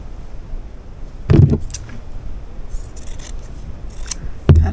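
Scissors cutting fabric for placemats, with a couple of heavier snips and soft rubbing, rustling handling between them, close and fairly quiet with no talking.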